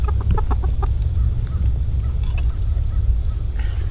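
Hens cluck at a backyard coop in winter, a series of close, loud clucks early on over a low steady rumble, with softer calls toward the end.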